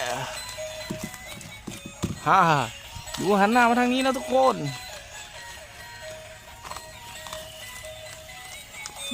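A battery-powered toy horse lets out two bright electronic neighs, a short one followed by a longer warbling whinny, with someone speaking Thai over and around the toy.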